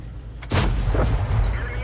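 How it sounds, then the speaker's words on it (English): Artillery shells strike the ground near a tank in a video game, a sharp boom near the half-second mark followed by a rumbling, continuous blast wash and a few lighter thuds. "you can hear the ground near him is getting hit"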